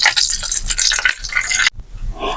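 Whole cloves and cinnamon sticks sizzle in hot coconut oil in a pan, a steady bright crackle that runs loud and close, then cuts off sharply near the end before a softer frying hiss resumes.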